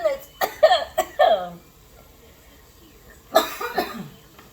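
A person coughs in a quick burst of several sharp coughs, then a pause, followed by another short cough fit.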